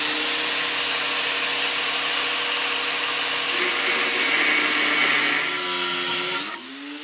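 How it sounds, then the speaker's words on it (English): A steady, high-pitched grinding whine of a power tool cutting through an oversized steel pocket hole drill bit, continuous and loud, shifting in pitch near the end before winding down. "I'm going to cut this bit right down the middle"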